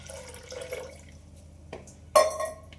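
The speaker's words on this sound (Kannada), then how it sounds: "ನೋಡಿ ನಾನು ನೀರು ಹಾಕ್ತಾಯಿದ್ದೀನಿ, ಸರಿ ನೀರು ಹಾಕ್ಕೊಂತೀನಿ." Water poured over washed toor dal in a pot while sambar is prepared, a faint trickle followed by one louder splash near the end, heard alone.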